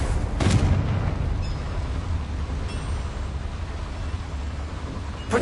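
A Confringo blasting spell in a Hogwarts game goes off with a sharp, loud burst near the start, then a rumbling low-end wash lingers and fades under continued game noise.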